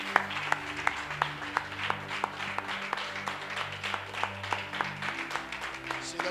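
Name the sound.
congregation applauding in church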